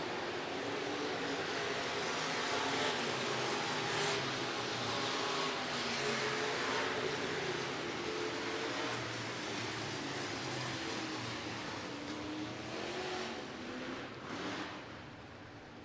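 Sport modified race cars on a clay dirt track at the Clay County Fair Speedway drone in a dense, continuous roar as a feature race finishes, with the engine noise easing slightly near the end.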